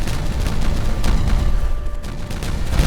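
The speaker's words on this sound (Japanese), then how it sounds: "今シーズン初の大規模爆破" A dense, rumbling barrage of explosions in the video game Timberborn booms continuously, with overlapping blasts and deep low-end thunder, loud throughout.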